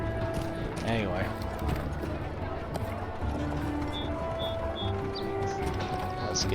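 Horse hooves clip-clop in the online game Lord of the Rings Online during a wedding and midsummer festival scene, a dense mix of hoofbeats and game ambience with someone talking over it.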